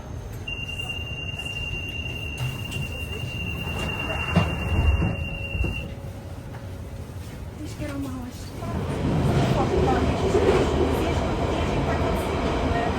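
A London Underground Central Line 1992 stock train runs with a steady rumble, a long high-pitched wheel squeal early on, then a louder roar of motion; talk is heard partway through.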